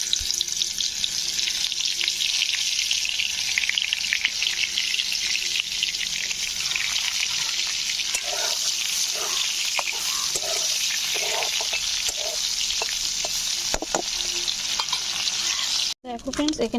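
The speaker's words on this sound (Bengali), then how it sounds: "এবারে এঁচোড়গুলো ওই তেলেই ভেজে নেব।" Jackfruit pieces fry in mustard oil in a pan, a loud steady sizzle close by with occasional stirring scrapes and a sharp knock near the end.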